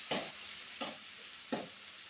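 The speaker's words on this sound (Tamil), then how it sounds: "சிம்மிலே வச்சு கிண்டிக்கலாம்." Rasam with softened tomatoes and rasam powder is stirred in a pan over low heat, making three evenly spaced soft scraping strokes. The strokes are quiet and close, with only a faint sizzle between them and no voices.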